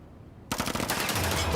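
Sudden rapid machine-gun fire from The Boys season 4 episode 4 bursts in after a brief quiet moment and keeps rattling loudly in fast repeated shots.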